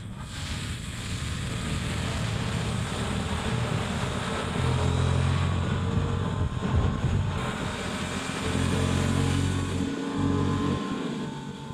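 A Honda Hornet 750 motorcycle engine on a test ride, a steady droning hum with shifts in pitch as it revs and eases, mixed with strong wind rush, no voices.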